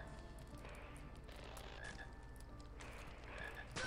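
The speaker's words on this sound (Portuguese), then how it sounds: "É o sapo do Neville ali? Não, é um sapo de chocolate." A chocolate frog in a Harry Potter video game croaks in short repeated calls over a busy game soundtrack, moderately loud and without speech.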